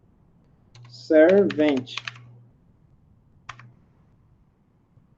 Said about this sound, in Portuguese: a gente vai digitar o Ctrl F para aparecer o localizador e aí a gente vai digitar